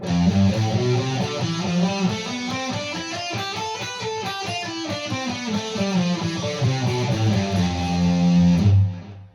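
A distorted electric guitar plays a quick run of single notes up and back down the F Lydian mode, loud and close, ending on a sustained note.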